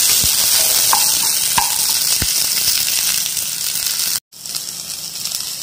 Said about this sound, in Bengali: পেঁয়াজগুলোকে আমি খুব ফ্রাই করবো না, ব্রাউন বা গোল্ডেন ব্রাউন অবধি কিন্তু ফ্রাই করবো না